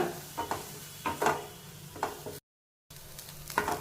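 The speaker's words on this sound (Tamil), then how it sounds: "லோ ஃப்ளேம்ல வச்சுட்டே நீங்க வந்து அப்படியே நல்லா வதக்கி கொடுத்துக்கோங்க" Carrots for carrot semiya kesari sauté on a low flame, with a soft, continuous sizzle broken by rhythmic scraping strokes of a spoon stirring the pan and a brief silent gap midway.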